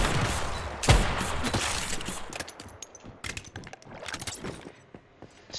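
A shotgun turret in the shooter game Once Human fires several sharp blasts in quick irregular bursts, loud at first and then trailing into scattered cracks.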